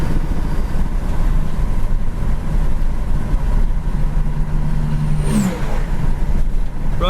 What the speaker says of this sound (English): There's your kick down.